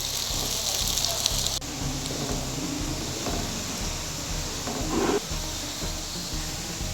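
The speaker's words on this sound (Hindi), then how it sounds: "घी गर्म होने के बाद उसमें शामिल करेंगे 3 अदद दरमियाने साइज़ के प्याज।" Three medium-sized sliced onions sizzling in hot ghee give a steady crackling hiss with faint scattered pops, sounding close and moderately quiet.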